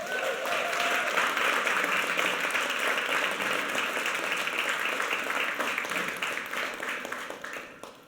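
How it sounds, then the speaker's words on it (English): Audience at a magazine-industry conversation event applauds an award recipient, a dense, sustained round of clapping that holds steady and then gradually tapers off near the end. "how about a round of applause for that?"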